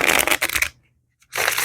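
Tarot cards shuffled by hand in two quick riffling bursts separated by a brief silence, close and crisp, with no voices.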